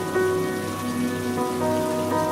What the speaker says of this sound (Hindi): भीगे रास्ते, हल्की बारिश, गहरी धुंध, आज का मौसम दिल के मौसम जैसा है।